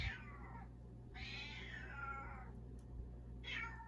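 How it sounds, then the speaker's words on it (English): A house cat meows three times indoors, each call loud, drawn out and close, with short quiet pauses between them and a low steady hum underneath. "So this is my roommate's cat"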